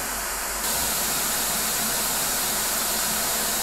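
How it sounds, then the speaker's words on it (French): Steady broadband white noise test signal from an iFi Audio micro iDSD headphone amplifier, continuous loud hiss with a slight brightening early on, no voices. "Et là c'est le bruit blanc sur l'ampli casque."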